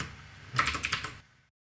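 Typing on a computer keyboard while entering a multiple-answer poll question, a short burst of close, quick keystrokes lasting about half a second before falling silent.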